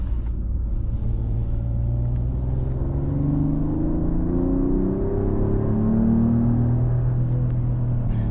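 A Mercedes-AMG GLE 53 Hybrid SUV in Sport Plus mode accelerates, with its engine note climbing through a steady, rising rumble heard from inside the cabin, loud and continuous with no talking.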